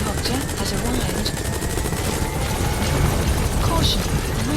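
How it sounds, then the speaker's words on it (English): A support helicopter arriving in the video game Metal Gear Solid V, its rotor chopping in a steady, dense thump close by, with faint tones and blips layered over the continuous roar. "Support helicopter has arrived."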